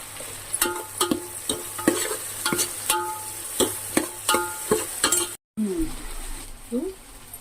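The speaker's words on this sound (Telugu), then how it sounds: "కొంచెం ఆవాలు వేసుకోవాలి." Mustard seeds crackle and sizzle in hot oil as a spoon stirs and scrapes a pan for an onion tamarind stew, with regular clinks and steady frying close by, then a brief cut and quieter stirring.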